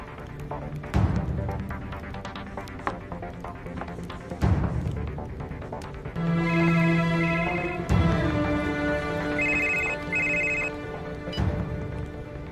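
A telephone rings with repeated electronic bell tones in the second half, over a busy background of music and effects, with no talking.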